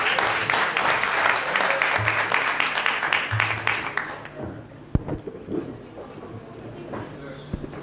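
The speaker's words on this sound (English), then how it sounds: "Let's give him a round of applause." Applause from the audience at a children's symposium fills the room for about four seconds, then fades to scattered claps and quiet room sounds.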